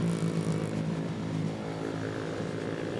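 A KTM motorcycle engine drones steadily while riding, a continuous buzzing hum with wind noise, moderately loud and unbroken throughout.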